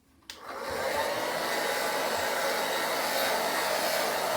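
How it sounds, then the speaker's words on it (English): A hair dryer switches on and blows steadily on a beard, a close, constant whooshing hum that holds alone after the click of starting. "what I'm going to go back and do is blow straight down again"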